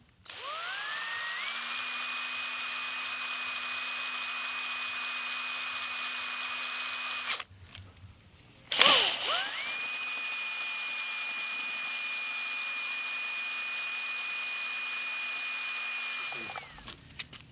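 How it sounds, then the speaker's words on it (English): Power drill backing screws out of the collar on top of an Intex sand filter, two long steady whining runs, each spinning up then holding a constant pitch, separated by a short pause with a brief clunk. "remove a couple screws that hold this collar onto the top of the sand filter"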